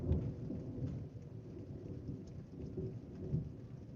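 A thunderstorm's rolling thunder rumbles on low and steady under a dense bed of falling rain, with a few swelling surges, and no voices.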